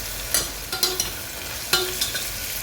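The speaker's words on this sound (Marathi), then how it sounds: "तर हे व्यवस्थित तेलामध्ये फ्राय करून घ्यायचं आहे" Sliced tomato and green chillies frying in oil, a constant loud sizzle broken by a few sharp stirring scrapes of a spatula against the pan.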